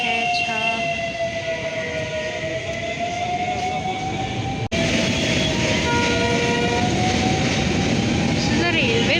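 A train rumbles continuously across a railway bridge over the Ganges, a loud, sustained roar with a long horn-like tone and squealing wheels throughout, close by.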